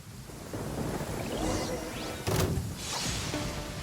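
Steady heavy rain hisses throughout a thunderstorm in Genshin Impact, broken by a sharp, loud thunder crack midway, with lingering rumble and a faint whoosh afterward.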